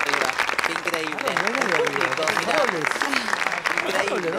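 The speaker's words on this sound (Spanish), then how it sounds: "Ovación." An audience at a live poetry performance breaks into a sustained ovation, dense and steady applause filling the room while voices carry over the clapping.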